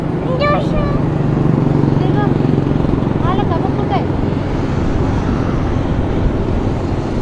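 A steady, broad engine roar fills the air, like an airplane passing overhead, while voices talk over it.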